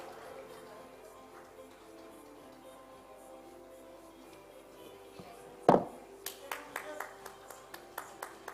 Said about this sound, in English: Please do give to all the panelists and Chetna a huge round of applause.